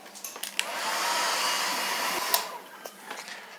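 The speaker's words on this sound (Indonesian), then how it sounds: "Saya hair dryer dan ini saya pegang-pegang udah lumayan kerasa kering" A hair dryer blows steadily on a civet's damp fur after a bath, a continuous close whoosh with small handling bumps, no voices.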